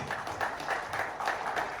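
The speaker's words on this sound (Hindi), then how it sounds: "एक बार जोरदार तालियां अंदर की" Audience at a celebration and recognition event clapping together, steady rhythmic applause at moderate loudness for a short stretch, no talk.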